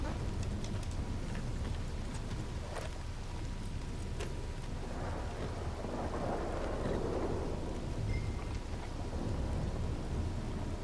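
A thunderstorm with heavy rain in the Red Dead Redemption 2 video game, a constant loud downpour with a deep roll of thunder swelling midway.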